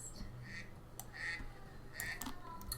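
A few short nasal duck quacks scattered over a quiet background, with faint indistinct voices underneath.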